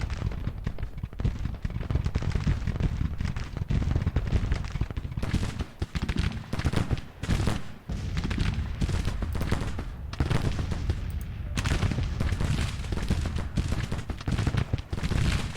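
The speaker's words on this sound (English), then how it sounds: "Gibbon's skirmishers have been firing for a while" Steady crackling musket fire from skirmishers in the Civil War strategy game Grand Tactician, many shots overlapping in a dense continuous rattle with brief lulls, loud throughout.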